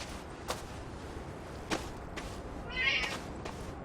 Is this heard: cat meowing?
yes